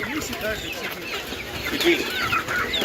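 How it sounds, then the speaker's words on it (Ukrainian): Chickens cluck at an animal market, several birds close by amid busy crowd noise and people talking. "І ці курочки такі ще є на ринку."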